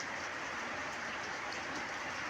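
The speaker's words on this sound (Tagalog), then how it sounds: "biglang bumuhos ang ulan guys" Heavy rain pouring down, a dense, even hiss of falling water that stays constant and fairly loud from start to finish, with no voices.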